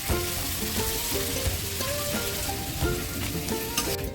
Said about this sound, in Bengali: এখন কড়াইতে তেলটা দিয়ে দিল। আলু আর মশলাটা ভেজে নেবে।